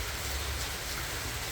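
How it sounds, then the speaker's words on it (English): Steady rain in Rio Grande do Sul, just before the devastating floods, after about 40 hours of downpour, heard at a cycling stop as a faint, even hiss with no voices. "It's been raining for about 40 hours by now."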